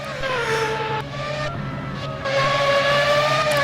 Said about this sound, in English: And there is the McLaren trying to warm up his tires.